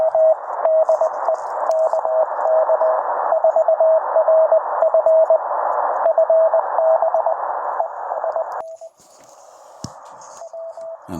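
A steady Morse code tone on amateur radio keys out fast dots and dashes, then breaks up near the end from propagation distortion into hissing static with only a brief return of the tone.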